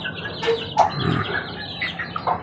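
Small young chicks peep and chirp in short bursts, with a few higher calls over faint farmyard background and no talking.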